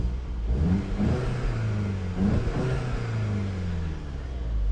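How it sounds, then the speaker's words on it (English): A 2018 VW Golf GTI SE manual in Sport mode revs its engine, the note partly synthesized by the sound actor, a continuous mid-pitched growl that rises and falls in pitch a few times under steady road and cabin noise. "Now obviously some of that sound is faked using what they call the sound actor in Volkswagen terms"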